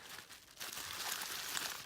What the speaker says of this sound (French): Donc on va déballer le premier.